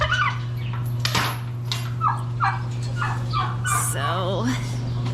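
Poultry in a backyard coop call out in a burst of clucks and warbling gobbles, close and fairly loud over a steady low hum, with brief muffled handling noises between calls.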